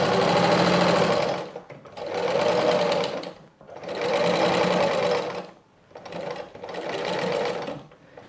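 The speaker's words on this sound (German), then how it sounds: "Ich nähe jetzt direkt mit der Nadelstärke 2 einmal die Bahn" A sewing machine stitches a traditional patchwork quilt binding with a contrasting edge. Loud, close, steady whirring runs in four long bursts separated by short pauses.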